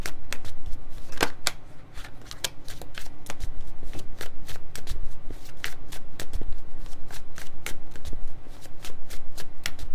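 Tarot cards being shuffled by hand, a steady run of crisp, close riffling slaps and flicks that continues almost without pause, loud and dry with no speech.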